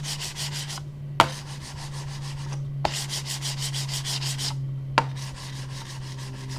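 A gaming mouse slides back and forth on a glass mouse pad in rapid, even rasping strokes, close and clear, broken by short pauses and a few sharp taps as it is set down.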